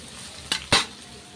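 An omelette and tomatoes frying in a pan with soy sauce and garlic for egg chow mein, heard as two short, close bursts of sizzling stirring separated by a quiet pause.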